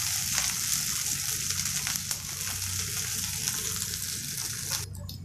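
About a quarter kilo of garlic sautéing in sesame oil, a dense close sizzle with light stirring scrapes, continuous and alone.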